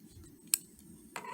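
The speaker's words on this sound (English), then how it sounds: "scissors and get rid of whatever little bitty pieces are left like that" Small applique scissors snip away leftover fabric scraps, two crisp, faint cuts about half a second apart in a quiet room.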